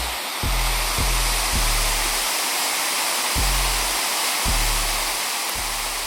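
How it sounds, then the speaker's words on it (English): Todd Creek Falls, a big waterfall in South Carolina, roars steadily up close, a dense unbroken rush of water with a few low thuds and no voices. "you get to this big, beautiful waterfall"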